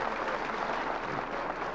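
Short burst of fairly faint, steady clapping from a small audience at a French club gathering, a dense wash of hands with no voices.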